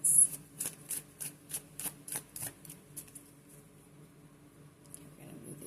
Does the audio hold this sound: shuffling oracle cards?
yes